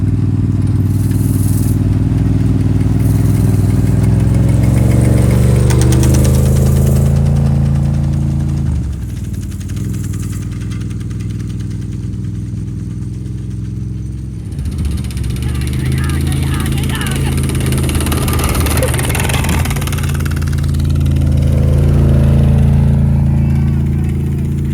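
A motor engine runs and idles at a steady loud drone with a brief dip midway, and people talk over it.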